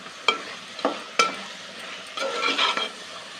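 Masala is stirred and fried in a pan for chicken curry with beans, giving a steady sizzle broken by a few sharp utensil scrapes and knocks, close and fairly loud, with no talk.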